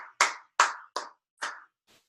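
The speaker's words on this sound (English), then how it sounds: "I'll clap one more time. Here I go." Four sharp, close hand claps ring out in a quick rhythm in a quiet room, followed by a faint trailing tap.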